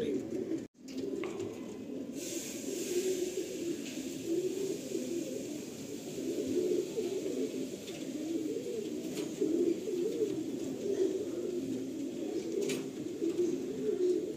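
Andhra pigeons in a loft give a steady, low layered cooing that runs unbroken for the whole stretch, close and moderately loud, after a brief knock near the start.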